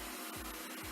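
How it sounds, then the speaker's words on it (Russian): A Xiaomi Roborock Sweep One S51 robot vacuum cleaner runs with a steady, loud whirring hum heard close up, its pitch dipping briefly twice; no one speaks. "пылесос автоматически будет и чистить, и пылесосить"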